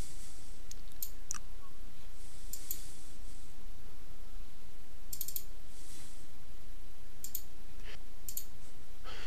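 A computer mouse clicks while someone works in Photoshop. Sparse, crisp single and double clicks come at irregular intervals over a quiet room hiss, with no talking.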